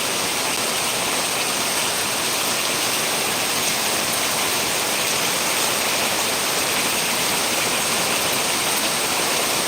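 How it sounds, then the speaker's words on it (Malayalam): Heavy rain pours down in a dense, constant hiss, loud and steady throughout with no voices. "നല്ല മഴ പെയ്തുകൊണ്ടിരിക്കുന്നത് കേട്ടോ"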